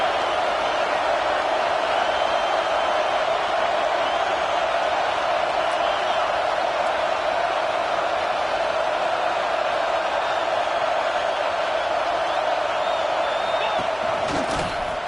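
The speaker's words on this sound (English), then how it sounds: "this big crowd doing everything possible to inspire this defense down here near the goal line" A big football stadium crowd roars steadily near the goal line, a dense, continuous wall of cheering and noise that never lets up.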